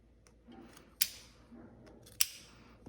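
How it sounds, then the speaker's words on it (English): Two crisp scissor snips, about a second apart, as a sewer trims a stitched waistband seam allowance together with the zipper tape; close and clear, with no talking. "when I trim this, I'm going to also trim that zipper tape as well"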